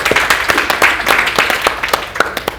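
An audience at a youth climate activism event and documentary screening applauds, a dense run of claps rising and falling for a couple of seconds with some voices mixed in.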